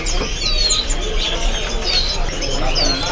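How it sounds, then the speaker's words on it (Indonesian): Small birds at a bird market chirp and tweet in short, high calls over steady low background noise, with a few rising whistled notes, loud and close. "ini ada burung konin ya, atau kolibri ninja"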